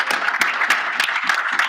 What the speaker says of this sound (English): can we give Casey a round of applause for?